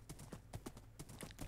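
Horse hooves clip-clopping in the video game Minecraft, a quick, steady run of close, distinct hoof strikes over a low background rumble.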